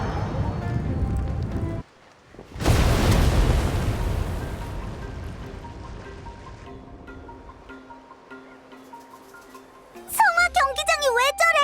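A loud explosion booms at an arena in the video game Genshin Impact, then fades into a long rumbling, crackling decay before a voice starts near the end.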